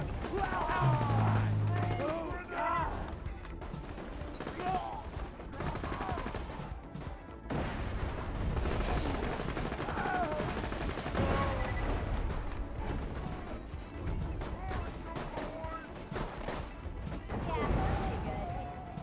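Borderlands 2 combat with grenade explosions and gunfire, a dense continuous roar of blasts and shots layered with game music and effects, loud throughout.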